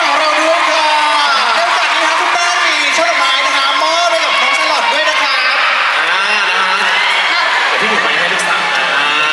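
A crowd of fans at a product presenter launch event for a vitamin C drink cheers and shrieks loudly, with clapping mixed in, a dense and continuous wall of noise throughout.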